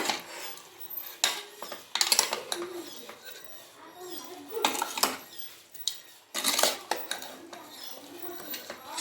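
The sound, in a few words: mixing salt into Giriraja country chicken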